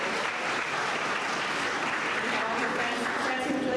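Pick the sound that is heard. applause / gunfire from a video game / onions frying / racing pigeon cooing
applause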